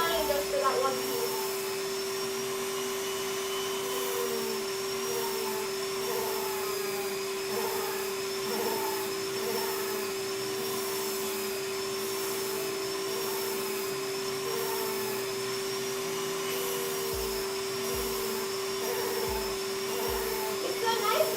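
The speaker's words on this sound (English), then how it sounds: "It's so nice that my vacuum actually fits now," A vacuum cleaner drones steadily for the whole stretch with a constant whine and hum, running close by during a cosplay crafting session where Dremel tools are in use.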